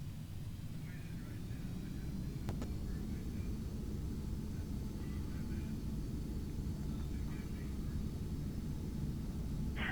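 A Beechcraft Premier 1A jet in a flight simulator game gives off a steady, even engine roar and broadband rush throughout, a continuous drone with no talk heard over it.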